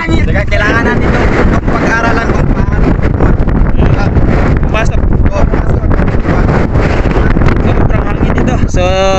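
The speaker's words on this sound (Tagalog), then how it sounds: "Sorry sa tunog ng hangin kasi mahangin dito sa amin" Strong wind buffets the microphone beside a fishpond in a constant loud rumbling roar, with a person's talking partly buried beneath it.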